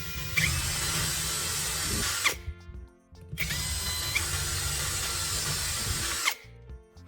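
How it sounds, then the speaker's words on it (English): A power drill whirs loudly in two long bursts, biting into wood, with a brief pause between runs and mechanical clicks as it stops. "Drill a hole so you can mount the drill bit onto the wood using a screw."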